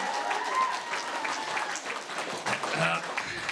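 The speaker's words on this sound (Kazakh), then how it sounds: "Шапалақ ұрайық, достар" Audience applauding at a Kazakh wedding celebration run by a showman host: dense, steady clapping fills the whole stretch, with voices mixed in underneath.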